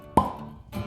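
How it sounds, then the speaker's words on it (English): A single sharp cork pop as a J. Henry & Sons small batch bourbon bottle is opened, close and crisp, followed by a brief softer rustle. "Nice cork pop."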